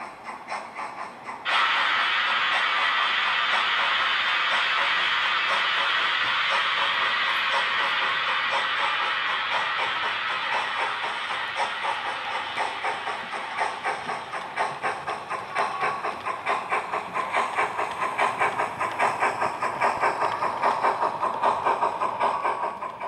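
A King Arthur Class steam locomotive hauling a parcels van train rolls past a junction with a steady loud hiss and rhythmic clatter of wagons, the noise building then trailing away.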